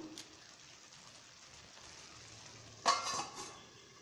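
Egg keema gravy simmering in a pan on a low flame, a soft steady bubbling sizzle close by, with a brief louder stir or clatter near the end.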